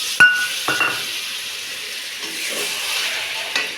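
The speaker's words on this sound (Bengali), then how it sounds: "একটু জল দিয়ে বাটি ধোয়া জলটা একটু দিয়ে দেবো" Water goes into a pan of spiced hilsa fish curry masala. A sharp clink of a bowl against the pan comes first, then a loud, steady sizzling hiss with a few light metallic knocks.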